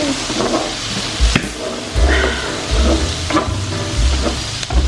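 Garlic and onion fry in a very hot pan, a loud, steady close sizzle broken by regular stirring thumps and scrapes, with no talking.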